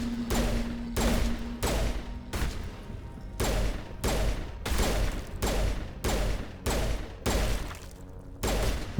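Pistol gunfire in Mass Effect, about a dozen loud sharp shots fired in a steady, evenly spaced rhythm, each with a short decaying tail.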